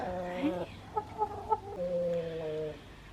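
Chickens cluck and squawk nearby in a few short bursts, with a longer drawn-out call at the end, in an otherwise quiet setting.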